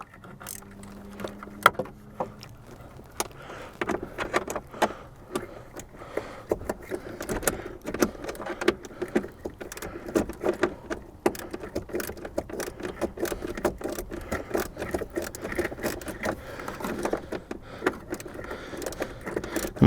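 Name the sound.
socket ratchet tightening blower motor resistor on Jeep TJ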